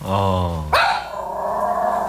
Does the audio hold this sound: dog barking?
yes